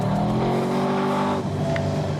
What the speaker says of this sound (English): I'm being too polite with Todd's car